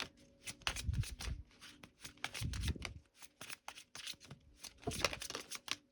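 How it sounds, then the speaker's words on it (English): Cards from an Island Time Wellness oracle deck are shuffled and drawn, producing rapid papery riffles and flicks in steady bursts, close and fairly quiet, with a low voice murmuring at moments. "I want to get a couple cards from my Island Time Wellness deck"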